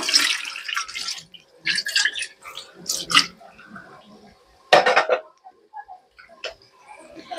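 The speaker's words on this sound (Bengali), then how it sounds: "রান্না করতে করতে কিছু বাসন ধুয়ে নিই, ফেলে রাখি না" Dishes and a small basin being rinsed with water poured from a mug, intermittent splashes and clinks close by with quiet gaps between bursts.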